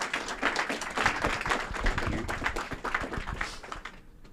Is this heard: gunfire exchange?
no